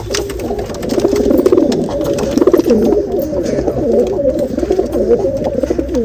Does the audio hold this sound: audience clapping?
no